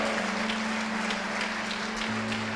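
A church congregation applauds in steady, continuous clapping that fills the whole stretch, with a sustained tone running underneath.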